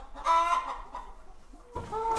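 White hens cluck in a stable bedded with straw, several birds calling close by in short bursts that overlap and pause, loudest near the start and again toward the end.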